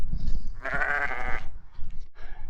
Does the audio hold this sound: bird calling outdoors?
no